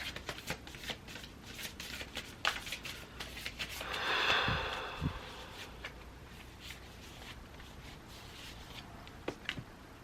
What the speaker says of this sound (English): let me pull